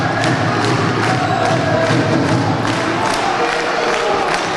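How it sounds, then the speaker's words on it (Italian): Home crowd at a Pavia Serie B basketball game applauding and cheering, a loud dense roar of claps and voices filling the arena from start to finish, with thumps scattered through it. "Benedusi applaudito dal pubblico di Pavia."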